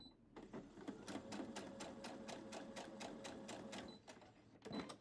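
Sewing machine stitching the top sides of scrappy postage stamp pear quilt block pieces at a quarter inch seam, a steady rapid needle rhythm running continuously at close range with a brief pause near the end before restarting.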